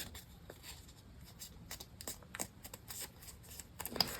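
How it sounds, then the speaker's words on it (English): Paper being folded in half for a handmade pop-up card, soft close crinkling and creasing rustles in scattered quiet bursts with no talking. "I'm going to fold it in half again."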